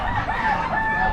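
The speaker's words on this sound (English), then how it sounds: "Polish rooster." A Polish rooster crows at an Amish animal auction, its voice a continuous mid-pitched call held through the whole short stretch over steady barn noise, fairly close and loud.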